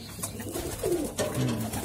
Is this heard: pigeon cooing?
yes